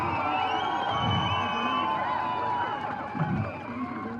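A large crowd at a protest rally claps and cheers for Professor Nageshwar Rao, a dense, loud, continuous wash of applause and shouting.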